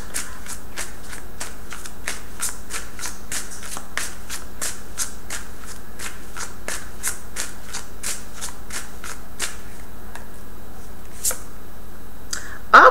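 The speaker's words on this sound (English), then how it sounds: "And y'all saw me shuffle." Tarot cards being shuffled by hand, a long run of quick, crisp riffling flicks in a steady rhythm, close and clear, with no talking.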